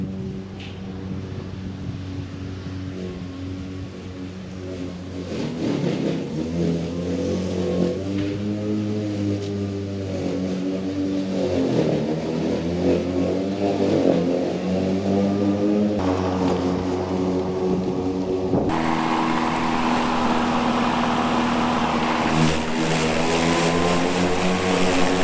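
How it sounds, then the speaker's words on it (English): Toro 60V Super Recycler battery lawn mower cutting through thick grass, a steady close motor whine whose pitch rises and falls as it powers up in dense spots, continuous and loud with no talking. "you can hear it powering up when it's going through thick spots"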